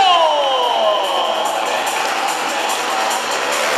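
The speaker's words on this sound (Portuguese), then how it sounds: "Cadê os aplausos da galera" A crowd at a motorbike stunt show cheers and whoops in a loud, sustained roar, the shouting swelling early and then holding steady to the end.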